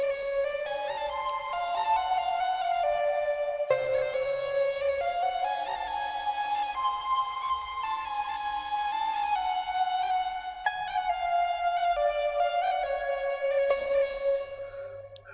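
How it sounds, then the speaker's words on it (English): An Arabic-flavoured trap EDM lead synth patch built in Genesis Pro plays a bright, sustained melodic line with sliding, ornamented notes, loud and steady for about fifteen seconds, with no talking. "today we are going to design a Arabic trap EDM lead sound in Genesis"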